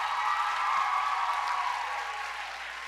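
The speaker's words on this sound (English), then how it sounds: "Would you please give all the parents a round of applause?" Audience at a middle school choir concert applauds the parents, a brief, steady wash of clapping heard from some distance in a large hall.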